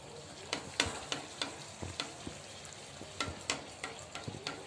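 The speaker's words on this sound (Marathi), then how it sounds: "आता मी सगळ्या पुऱ्या तळून घेते" Puris deep-fry in hot oil, giving a continuous soft sizzle with rapid crackles and sharp pops that recur irregularly throughout.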